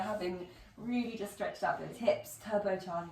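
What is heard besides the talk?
No everyday noises stand out.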